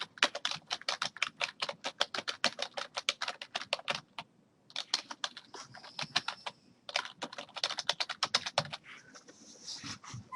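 Quick clattering keystrokes on a computer keyboard while drafting in AutoCAD, coming in fast bursts with a short pause midway, close and clear with no talking.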